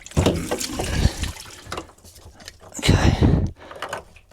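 Water gurgles and splashes in through the open transducer hole in a boat's hull during removal of an Airmar DST810 transducer, in two loud close bursts with a quieter gap between them.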